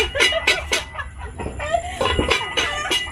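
Chickens cluck in quick, repeated bursts close by, with a few squawks and a rising call mixed in, over faint background noise during New Year celebrations.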